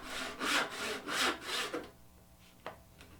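A hand saw cuts through wood in a beginner woodworking lesson, giving four loud, steady rasping strokes followed by quieter scraping and a sharp tap near the end.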